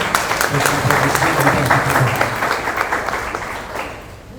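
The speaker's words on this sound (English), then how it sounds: "please can we have a good round of applause" Sustained applause from a seated audience for a speaker being introduced at a panel discussion, dense and steady clapping that tapers slightly toward the end with no talk over it.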